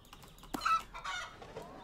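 Chickens in the horse-riding game Star Stable, a few short close clucks and a brief squawk in quick succession over a faint background, clear and alone.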